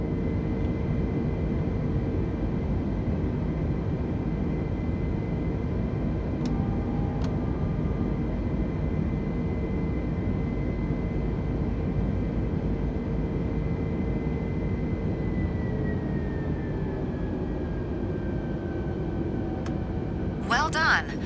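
Airliner engines in Microsoft Flight Simulator on Xbox hold a steady, loud drone through a climb, with a constant tonal whine whose pitch slowly drops partway through and brief clicks near the end.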